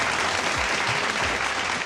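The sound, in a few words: studio audience applause for Chef Gulzar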